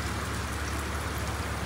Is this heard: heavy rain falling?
yes